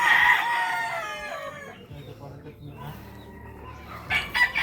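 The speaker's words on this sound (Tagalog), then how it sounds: "Matatapang ang mga manok dire." Chickens cluck and a rooster crows nearby, loud bright calls at the start that fade, then a second burst near the end over low background noise; faint voices are heard between the calls.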